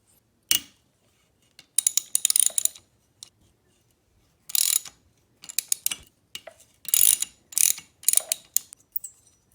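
Loosening the cylinder head bolts on a Yamaha PW50 with a hand ratchet: bursts of quick pawl clicking come close and clear in separate runs, with short pauses between them and no talking.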